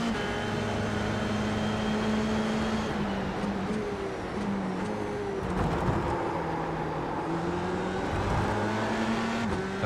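A red Ferrari-themed Formula 3 race car in a racing video game drones at a steady high engine whine, its pitch rising and dipping through gear changes mid-race, continuous and fairly loud with no voices.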